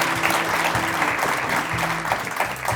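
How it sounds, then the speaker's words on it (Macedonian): Studio audience applauding doctors on a talk show, a steady, dense burst of clapping filling the room with faint voices mixed underneath. "Така е, аплауз за докторите!"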